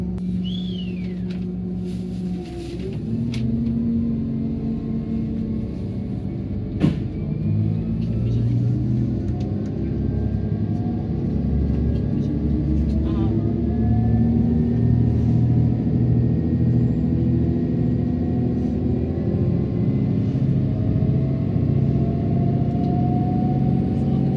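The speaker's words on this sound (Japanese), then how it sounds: "加速音がちょっと良すぎたので皆さんにご紹介しちゃったんですがヒューンっていう音もその通りですし" JR 283 series limited express train pulling away from a station in Hokkaido, a steady loud rumble with a rising whine that climbs through several stages of acceleration over about twenty-four seconds.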